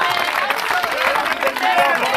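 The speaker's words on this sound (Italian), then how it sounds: "io vorrei mettere un applauso" Applause for Giuseppe Conte at a public gathering in Marino rolls on as a steady, dense wash of clapping, with crowd chatter and voices mixed through it.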